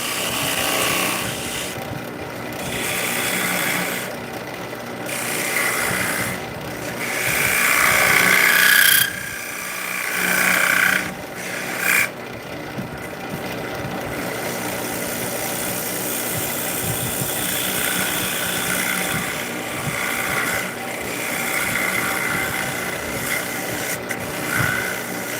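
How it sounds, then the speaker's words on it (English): A bowl gouge cuts into wood spinning on a lathe while shaping a small ornate knob. A steady motor hum carries throughout, with rough scraping and rasping bursts from the tool that rise and fall in close, fairly loud passes. "Take our bowl gouge, kind of bring it in a little bit."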